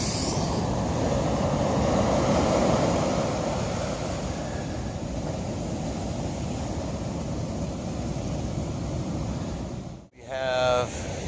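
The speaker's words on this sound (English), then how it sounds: "we got ourselves some serious waves going on" Heavy surf rolls and breaks continuously on a beach, a loud broadband wash that swells and eases over several seconds, with steady wind noise and a brief dropout near the end.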